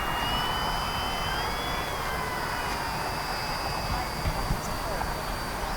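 A large-scale HSDJets Cessna 182 RC model plane comes in to land, its engine a steady distant whine and drone that holds at an even level throughout.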